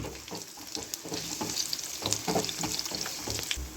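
Finely sliced garlic, eight to ten cloves, crackles and sizzles steadily in hot oil in a pan, with busy stirring scrapes and spatters close up, no speech.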